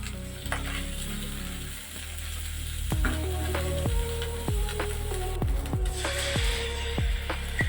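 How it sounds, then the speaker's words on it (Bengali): Cumin, onion, ginger and garlic paste fries in hot oil for a fish curry, a steady sizzle broken by regular scraping and clicking strokes as the spoon stirs the pan. "একই তেলে এখন আমি জিরা ফোড়ন দিয়ে পেঁয়াজ বাটাটা দিয়ে এবার আমি একে একে জিরা বাটা, আদা বাটা, রসুন বাটা দিয়ে মশলাটা একটু কষিয়ে নিচ্ছি।"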